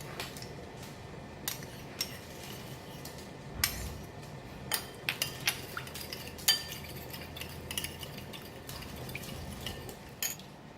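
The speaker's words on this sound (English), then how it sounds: "we mix all the ingredients together in this sauce" Sauce for steamed pork ribs, made of cooking rice wine, sugar, black bean paste and oyster sauce, is stirred in a dish: quiet, irregular clinks and scrapes of a spoon against the bowl, with no talking.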